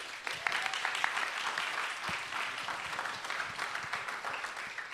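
Church congregation applauds after a testimony, a moderate, even patter of clapping from a mid-sized room, fairly soft throughout.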